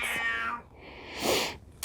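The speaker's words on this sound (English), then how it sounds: "I also have 1 screaming kitty." A cat lets out loud, drawn-out meows, two long, strained cries close to the microphone, with a short sharp sound at the end.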